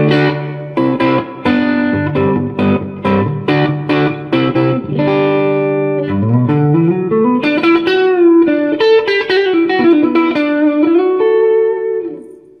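Electric guitar through a Quarterhorse 25W Microamp amplifier, reverb at about 12 o'clock, plays a run of plucked notes and then sustained, bending chords, drenched in a springy, splashy reverb that lingers after each note.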